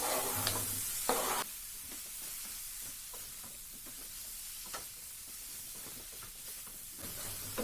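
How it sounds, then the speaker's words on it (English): Mushrooms drop into a hot pan with a sharp hiss that quickly settles into a quieter sizzle, while a spatula scrapes and stirs in scattered close strokes. "Now I'm adding all the mushrooms."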